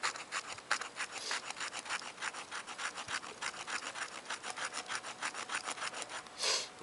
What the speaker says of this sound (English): That backing actually scrapes real nice.